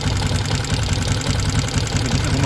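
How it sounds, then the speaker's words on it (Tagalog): Yamaha Sniper 150 MX motorcycle engine idling during a radiator fan check, a loud, steady, close-up rumble with an even mechanical chatter throughout and no talk. "You know, bago lang yung tunog ng ating makina."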